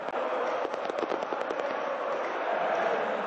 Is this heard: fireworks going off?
yes